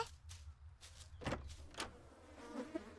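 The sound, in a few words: insect wings buzzing in toilet, horror video game The Third Pig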